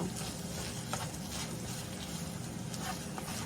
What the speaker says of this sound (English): we're just going to stir that all in